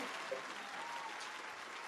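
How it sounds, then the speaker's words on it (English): An audience at an indoor gathering claps steadily in a brief, dense burst of applause, fairly quiet and even throughout. "round of applause for everybody being in here with us"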